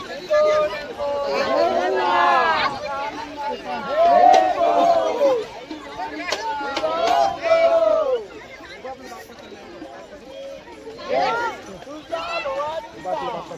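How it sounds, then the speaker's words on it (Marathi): A dense crowd of pilgrims at Jejuri temple fills the air with steady overlapping voices, with calls and chant-like tones rising and falling throughout. "गर्दी भरपूर आहे इथं."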